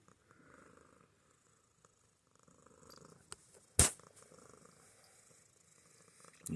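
A cat purrs softly in the morning in quiet, rhythmic rumbling bursts, interrupted by a sharp loud knock midway and a rising noise at the end.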